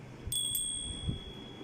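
A hand bell is rung at a street protest against unemployment in Delhi, giving two quick bright rings close by over a quiet background hum.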